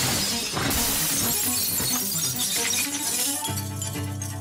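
Glass shattering during Kristallnacht, when Jewish shops were smashed: a loud, dense, continuous crash of breaking glass and debris, settling into a lower rumbling tone near the end.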